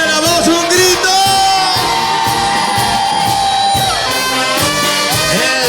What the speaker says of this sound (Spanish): ¡Dame la voz, un grito!